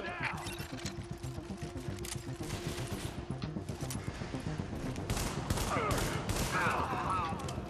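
Rapid bursts of gunfire in Tom Clancy's The Division crackle continuously, loud and dense, with a voice talking partway through and busy game effects underneath.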